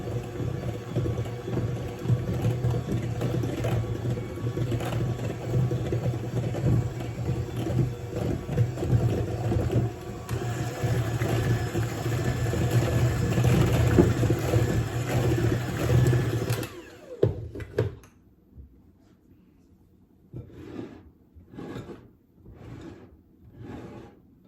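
An electric mixer whirs steadily through cream cheese batter for berry cream cheese bars, a loud continuous drone that cuts off abruptly, followed by a few short soft scraping pulses.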